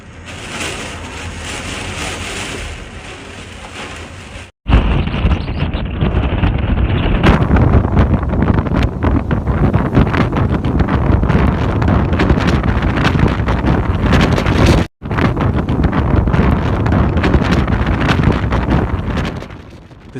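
Powerful typhoon winds from Typhoon Bavi lashing the Chinese coast, a loud, continuous roaring rush with brief dropouts, heavy buffeting close to the microphone, without speech.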